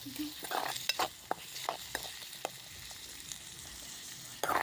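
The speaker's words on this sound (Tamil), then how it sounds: "நல்லா ஃப்ரை பண்ணி உப்பு போட்டு நல்லா இப்பயே ஃப்ரை பண்ணிடணும்" Vegetables being fried and stirred with salt in a pan, a soft continuous sizzle broken by sharp scrapes and taps of a spoon against the metal, close and fairly quiet.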